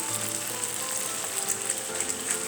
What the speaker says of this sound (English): Turn the flame down low and let the mackerel simmer into the juice of the vegetables nicely